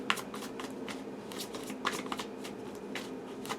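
A deck of tarot cards being shuffled close by, giving repeated papery riffles and soft flutters in an uneven rhythm against a quiet room.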